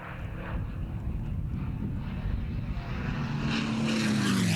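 A Supermarine Spitfire roars past on a low pass at an air show, its propeller engine drone loud and steady, rising as it closes in with a pitch shift near the end.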